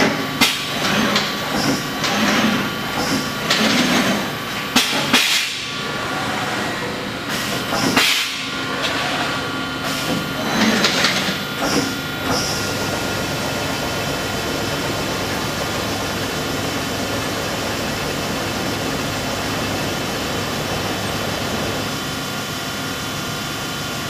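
A Strippit 1250S CNC turret press nibbles sheet metal, starting with rapid, irregular mechanical clatter and thumps, then settling into a steady, fairly quiet continuous hum and buzz.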